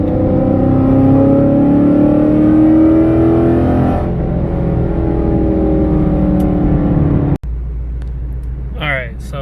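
A Ford Mustang S550 pulls hard in fourth gear, its engine note climbing steadily and loud from inside the car for several seconds before a sudden cut and a quieter, rougher drone.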